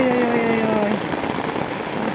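Heavy rain pours down steadily during a flood, a dense, even hiss that stays loud throughout, with a faint low engine hum and a brief tonal sound early on beneath it.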